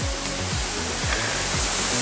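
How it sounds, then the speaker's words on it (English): A waterfall in Victoria's High Country makes a constant, broad rushing roar, with a low rumble swelling underneath it now and then. "We got a waterfall right here."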